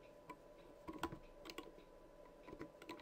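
Light typing on a computer keyboard, a few soft scattered key clicks spread irregularly over a quiet background, close but faint, with no talking.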